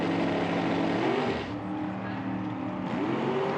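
A nitro drag racing car launches under full power at an IHRA Outlaw Nitro ProAm event in Milan: a loud, roaring engine note that holds steady, dips as the throttle backs off, then rises again.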